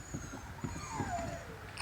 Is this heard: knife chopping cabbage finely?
no